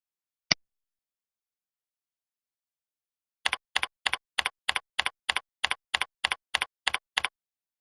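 Typing an IP address on a computer keyboard: one isolated key press, a pause, then a fast even burst of about fourteen sharp clicks, close and clean against silence.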